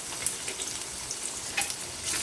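Onion fries in oil in a kadhai on a gas stove, giving a brief, steady close hiss of sizzling with a few faint crackles and no voices.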